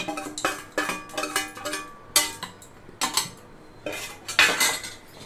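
Roasted peanuts and green chillies dropped into a mixie jar for Rayalaseema-style peanut chutney, heard as a series of sharp, close clinks and rattles of hard pieces hitting the jar and utensils.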